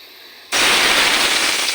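Oil in a pan on a gas stove starts a loud, steady sizzling hiss that begins abruptly and continues without a break, with no talking.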